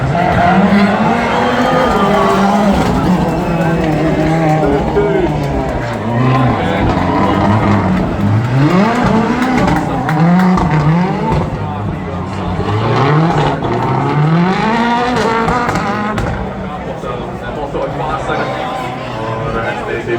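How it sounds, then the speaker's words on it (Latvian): Subaru Impreza 555 rally car at the Tet Rally Latvia WRC 2024 start, its engine revving and rising in pitch over repeated accelerations, loud and close, with crowd chatter and commentary running underneath. "Subaru Impreza 555"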